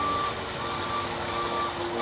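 A truck's reversing alarm beeps steadily and repeatedly at a rest stop at night, a continuous even pulse over a low engine hum, moderately loud with no voices.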